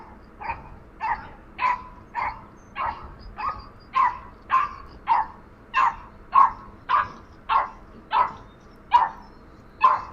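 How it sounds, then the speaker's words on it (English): A Yorkie barks at a coyote in a rapid, regular series of about fifteen sharp, fairly close barks, alone with no talk. "That is a brave little fucking Yorkie right there, dude."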